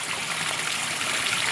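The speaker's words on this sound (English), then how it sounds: "I've just been leaving the pump that I use to water my plants running" Small plant watering pump running with water trickling, a steady broadband rush of flowing water that stays constant and fairly close throughout, with no speech.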